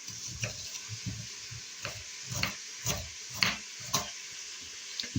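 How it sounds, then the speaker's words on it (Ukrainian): Chicken backs sizzle and spit in a hot frying pan, with regular stirring scrapes and clinks every half second or so over a steady frying hiss. "І тепер гарненько смажу до такої тонкої скоринки з обох сторін."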